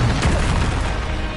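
A Bombarda spell detonates in Hogwarts Legacy combat, a loud, dense blast with a sharp onset that rumbles for a moment and fills the whole short moment without easing off.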